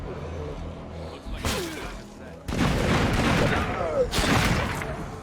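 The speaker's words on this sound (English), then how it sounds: "My snipers have no trouble hitting regular zombies, but they can't hit the juggernauts for the life of them." Sniper gunfire aimed at zombies in a video game, heard as sharp loud shots and booming blasts in dense bursts, with short gaps between volleys.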